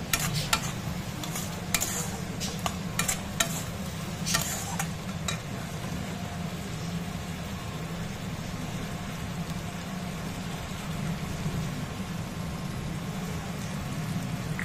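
Soybean chunks fry in a pan with a steady, rain-like sizzle throughout, while a utensil gives several sharp scraping clicks in the first few seconds before the sizzle continues alone.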